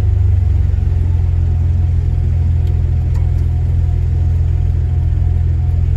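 A Ferrari 599 accelerates on a city street, its engine a loud, steady low rumble heard from inside the cabin, holding a constant powerful drone for several seconds.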